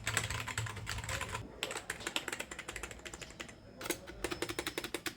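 Rapid keystrokes clatter from an Amazon Basics membrane gaming keyboard in dense, uneven bursts with brief pauses, close and clear with no talking.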